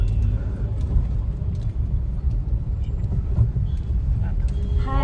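Car driven through Mumbai traffic, a steady low engine rumble and road noise close and continuous, with faint talk and brief higher traffic sounds near the end.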